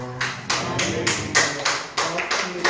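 Applause from a church congregation after a sermon, a handful of sharp claps in a loose rhythm, fairly near, with a brief spoken thanks over them.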